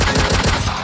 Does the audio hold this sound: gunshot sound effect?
yes